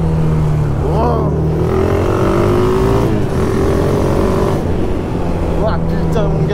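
A single-cylinder supermoto motorcycle accelerates hard, its loud, close engine note climbing in pitch through gear changes, while a man exclaims over it.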